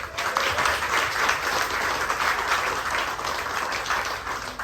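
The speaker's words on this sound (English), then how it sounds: "Another round of applause for all the speakers." A crowd claps steadily in broad, sustained applause that fills the room for several seconds, slowly tapering near the end.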